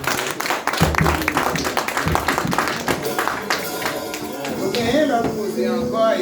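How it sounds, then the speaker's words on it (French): Congregation in a church applauding the Lord at a birthday celebration, dense sustained clapping with crowd voices and cheering mixed in, loud and continuous throughout. "On nous applaudit le Seigneur encore"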